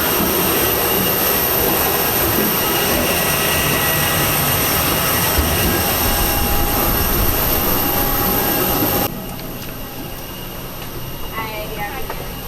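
Loud, steady jet engine roar from an AirAsia airplane at the airport, broad and constant for most of the clip, then dropping to a quieter hum near the end with faint talk underneath.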